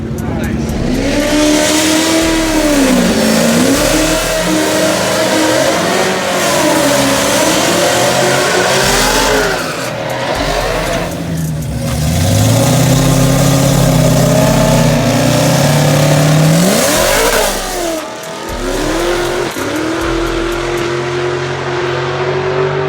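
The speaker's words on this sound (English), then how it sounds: "Out y'all, twin turbo McLaren 720S right here" A twin-turbo McLaren 720S engine revs hard and close, its pitch climbing and falling in repeated sweeps before settling into a sustained high drone, with a brief dip near the end.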